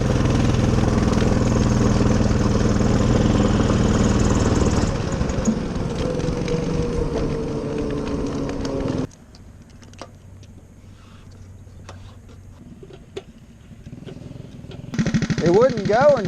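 A Coleman DT200 mini trike engine runs loud and steady at high throttle for about nine seconds with a wavering drone, then drops to a faint low idle before picking up again near the end.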